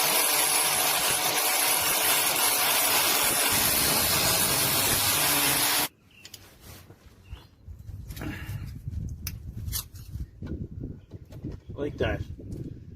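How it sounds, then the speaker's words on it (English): Welding fixes a bent bracket onto a 1986 Toyota Corolla KE70. A loud, steady crackling hiss fills the first six seconds, then cuts off abruptly, leaving scattered clanks and handling noises with faint voices. "Put a bend on it and weld it on there, just so it'll hold it"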